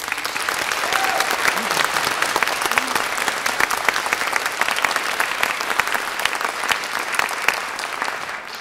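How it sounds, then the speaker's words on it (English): Concert audience applauding soloists after a performance of a 1787 serenade: sustained, dense clapping from a sizeable crowd, loud and even throughout, tapering slightly at the end. "I'd like another quick round of our applause for our first soloists"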